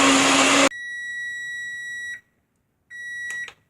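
A kitchen timer beeps after a smoothie is blended, a loud steady electronic tone that holds for about a second and a half, stops, then returns briefly, following the tail of the blender's roar.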